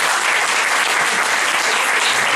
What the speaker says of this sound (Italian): a cui farei un grande applauso